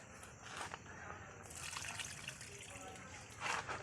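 Water bubbles and boils in a cooking pot before vegetables go in, a faint, steady burble with splashy surges near the start and end.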